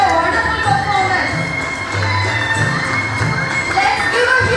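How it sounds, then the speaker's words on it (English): An audience at a spring festival cheers and shouts for a kids' performance, with children's voices and crowd noise forming a loud, dense wash and some talking mixed in. "Let's give a huge round of applause for the kids."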